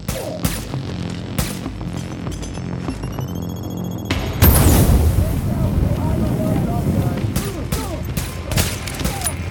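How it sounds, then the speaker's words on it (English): Gunfire in The Division, a third-person shooter, cracking out in sharp bursts, first a few spaced shots and then a denser volley with rumbling impact noise, loud and close over game ambience. "I think one more shot should do it."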